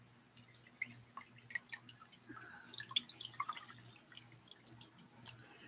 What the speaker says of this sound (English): Let me rinse again down here on my neck.